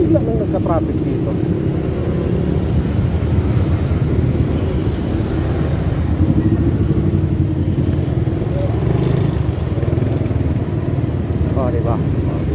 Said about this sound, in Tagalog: Bakit bigla nang nagka-traffic dito?